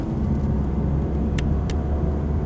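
Mazda CX-3 engine (146 horsepower) rumbling steadily from inside the cabin while accelerating, a low continuous drone with two brief light clicks partway through.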